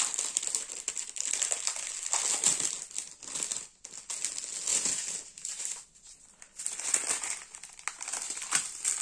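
Plastic packaging crinkles and crackles up close as it is opened, in steady rustling handling with a few brief pauses and no talking.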